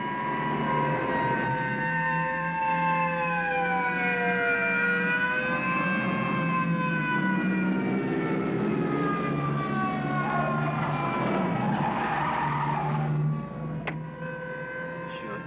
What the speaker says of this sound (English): You couldn't possibly be surprised with all those sirens blasting.